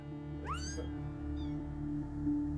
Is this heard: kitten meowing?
yes